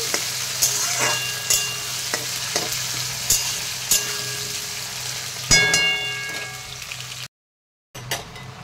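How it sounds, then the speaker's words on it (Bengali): Potatoes fry in a pan for a home-cooked vegetarian cabbage dish, giving a steady close sizzle with occasional stirring clatter and a brief silent gap near the end. "আলুগুলোকে আমি আগে ভেজে নিচ্ছি"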